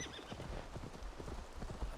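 A horse's hooves clip-clop at a quick, regular trot in Assassin's Creed Valhalla, close and clear, over a soft game ambience with no speech.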